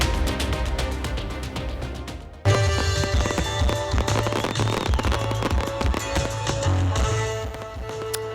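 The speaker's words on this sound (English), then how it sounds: "Coeur d'Alene officially kicked off the Christmas season tonight with its traditional tree lighting and fireworks display." Fireworks burst at a Christmas tree lighting in Coeur d'Alene with a rapid crackle of sharp, loud pops. A heavier volley of booms and crackles follows partway through.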